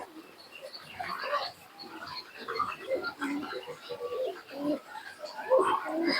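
Pigeons at a pigeon racing tournament coo repeatedly in soft, throaty bursts close by, against a low murmur of the surrounding gathering.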